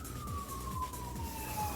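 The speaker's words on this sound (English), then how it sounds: "I'm trying to figure out if whether or not that siren's going to come down the street." An emergency vehicle siren on a street sounds as a single long wail slowly falling in pitch, moderately distant, over a low rumble of traffic.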